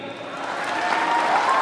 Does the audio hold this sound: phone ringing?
no